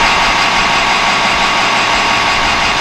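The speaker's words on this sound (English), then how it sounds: "So I'm just going to take a light face cut." Continuous steady whir of a metal lathe taking a light facing cut on a salvaged lathe spider, with an even broadband hiss and no talking.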